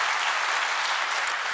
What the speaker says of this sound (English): Let's give a quick round of applause to Graham.